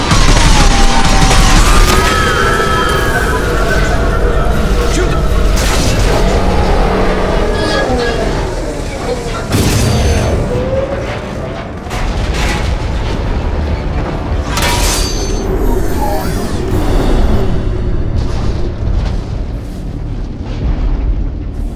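Dense, loud gunfire and booming explosions from a Mass Effect 2 combat scene against a human-Reaper, sustained throughout the clip amid a chaotic battle mix with shouted voices.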